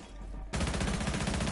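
Gunfire in a Rainbow Six round, a sudden burst of dense, rapid shots that starts after a quiet pause and keeps going loud and close to the end.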